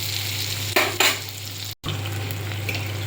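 Pieces of sweet pumpkin (parangikkai) fry in a pan for a Chettinad spicy kuzhambu, with a steady close sizzle, a few stirring scrapes, and one brief dropout near the end.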